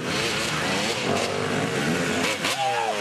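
A Husqvarna dirt bike races past on the Mansfield motocross track, its engine revving loud and close over steady crowd and track noise, with a rising whine near the end.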